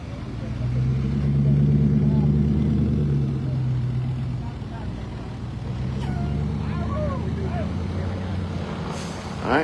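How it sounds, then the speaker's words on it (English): A truck idles and rumbles at a busy truck stop during a fire department rescue in Toomsuba, Mississippi, with a steady low engine drone, a brief hiss near the end, and voices talking over it. "they're moving the truck over to get a better angle"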